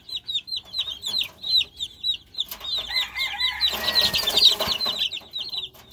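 Young chickens, offspring of a gamecock rooster, cluck and peep in repeated short calls, close by, with a burst of scuffling and wing flaps midway.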